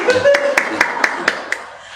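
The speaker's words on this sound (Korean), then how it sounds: "박수 한번." In a church service, a congregation claps hands together in a brisk unison rhythm, about seven sharp, evenly spaced claps over two seconds, with a voice speaking at the start.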